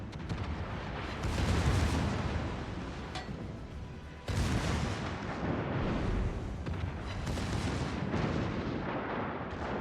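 Naval guns firing in a warship battle video game: a continuous heavy, booming roar of cannon blasts, loud and dense, with a sharp fresh salvo cutting in midway and rumbling on to the end.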